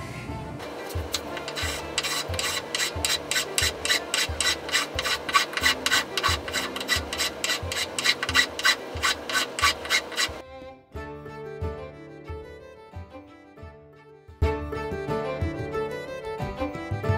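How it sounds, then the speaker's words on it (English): A hand rasp files the wooden tote of a broken Stanley Bailey No. 4 plane during repair. Fast, steady scraping strokes run close and loud for about ten seconds, then turn sparser and rougher, resuming briefly near the end. "Need to file with a larger curve on it."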